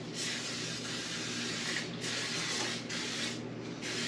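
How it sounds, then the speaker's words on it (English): Steady hissing bursts of cooking spray into a baking dish, several in a row with short gaps, close to the microphone, no talking. "First thing we're going to do is add some cooking spray."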